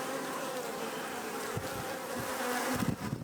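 Honey bees swarm around an open hive, producing a dense, continuous buzzing drone that fills the space, close and steady with occasional louder passes of individual bees near the end.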